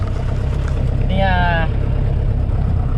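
A Chevrolet Cruze rolls over a rough off-road track with a steady, close, low engine and road rumble throughout, and a brief voice rises over it partway through.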